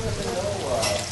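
Morel mushrooms sizzle in a frying pan, a steady, close, hissing crackle with no pauses.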